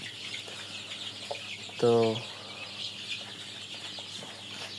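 On a small poultry farm housing sixteen-day-old chickens, a single short bird call rises out of soft clucking and the steady hum of a shed, heard fairly close, while someone speaks briefly and quietly.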